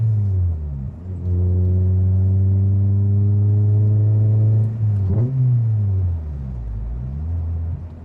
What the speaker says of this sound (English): You were saying the car sounds like a bike, eh?